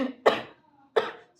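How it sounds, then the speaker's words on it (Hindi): A person gives two sharp, close coughs about three quarters of a second apart, each a short burst trailing off into a brief rasp, with silence between. "एकदम से खांसी आई मुझे,"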